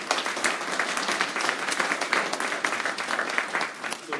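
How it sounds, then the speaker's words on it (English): An audience claps enthusiastically for a panel after a discussion on mental health stigma, steady dense applause that carries on loudly for several seconds without a break. "So let's give our panel another round of applause."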